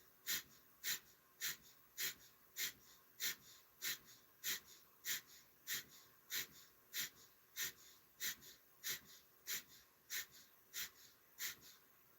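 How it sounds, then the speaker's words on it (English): Rapid, forceful breathing exercise with sharp exhales and passive inhales, about twenty quick, evenly spaced breaths in a steady rhythm, close and fairly quiet with no talking. "it's a quick, invigorating breath. Forcible exhale, passive inhale."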